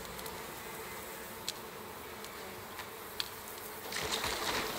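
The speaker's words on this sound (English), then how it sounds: "I think I hear bees." Bees in the Icarus survival video game give off a steady, faint, low buzz that drones continuously, with a few soft clicks and a slight swell at the end.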